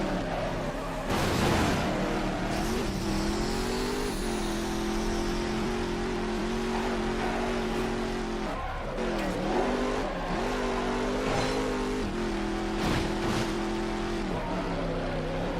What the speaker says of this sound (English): The Pontiac GTO rides again.